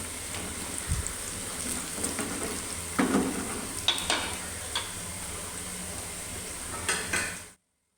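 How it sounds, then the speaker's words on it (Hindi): Onions fry in a pan for aloo chicken biryani and turai sabzi, a steady soft sizzle with occasional clinks of a utensil against the pan, no talking, ending abruptly. "और इसमें दोनों में मैंने प्याज जो है वो फ्राई कर लेनी है"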